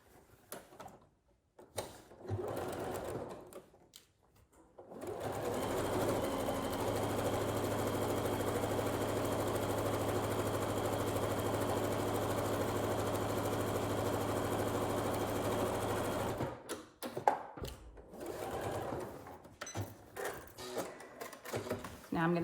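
A sewing machine stitches an envelope pillow in one continuous, steady run of rapid needle chatter lasting about twelve seconds, framed by quieter handling noises before and after.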